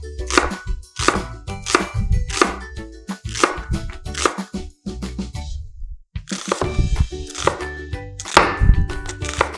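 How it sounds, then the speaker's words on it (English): A knife slices through onions on a cutting board with repeated crisp chops, an irregular steady series that pauses briefly before resuming. "I'm slicing my onions and I'm going to start caramelizing."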